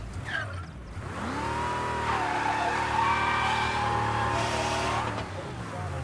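A car driven in the video game Mafia Definitive Edition revs up and holds a steady engine drone with rising harmonic tones, tires squealing briefly at the start, loud and continuous throughout.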